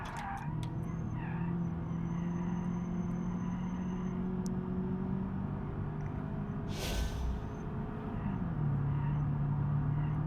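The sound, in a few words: squeaking of damaged car in BeamNG.drive video game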